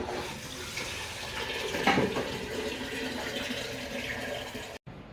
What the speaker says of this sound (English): we're just going to fill it up to the line with water